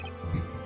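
A single deep, muffled thump of a heartbeat sound effect from the Professor Layton vs. Phoenix Wright video game, heard alone over a low hum.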